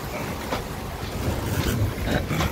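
A sailboat running on its genoa at about seven knots crashes through choppy sea waves in the Thames estuary, giving a continuous rushing wash of water and wind with rhythmic surges, loud and close, with no talking.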